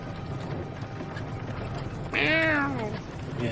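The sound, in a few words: cat meowing in the distance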